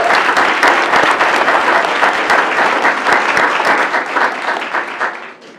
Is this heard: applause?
yes